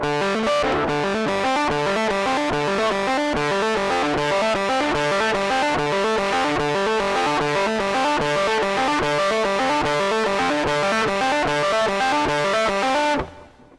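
Fuzz-distorted electric guitar plays a steady, driving riff, loud and continuous with repeating rhythmic notes, then stops abruptly near the end.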